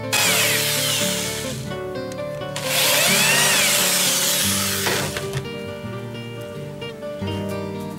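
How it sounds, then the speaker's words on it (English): A power drill whirs loudly up close, its pitch rising and falling as the bit bores into eucalyptus wood, with a brief surge of harsh grinding midway. "Now I gotta drill this"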